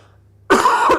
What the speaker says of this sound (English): you will be hearing coughs on this